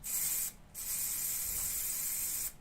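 Two long bursts of aerosol spray hiss as paint is sprayed onto a model forest floor, close and steady, separated by a brief pause, with no talking.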